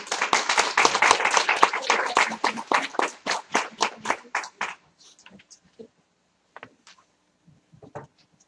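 An audience applauds warmly to welcome authors at a book presentation at National Louis University; the full clapping lasts about five seconds, then thins to a few scattered claps.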